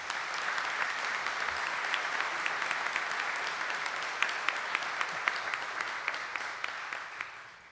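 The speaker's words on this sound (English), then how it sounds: "Let's give them a round of applause as well." An assembly audience at a college alumni reunion claps for alumni award recipients, making steady, even applause that stays moderately loud and fades slightly at the end.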